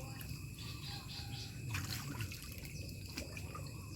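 Water trickles and dribbles faintly in an outdoor spot where people gather snails, with a soft continuous flow and a few distant bird chirps.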